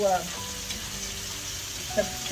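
Beef tips fry in olive oil in a skillet with a steady, moderate sizzle, close by, a few brief clinks or stirs at the start and near the end, no clear talk.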